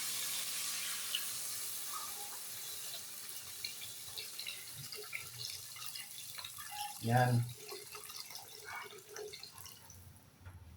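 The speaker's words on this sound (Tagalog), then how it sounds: "And then buhusan na natin ng tubig." Water poured into a pot of chicken, broth cubes and seasoning for chicken sotanghon noodle soup, a steady hissing splash running for several seconds, with a brief clunk midway and a short spoken word.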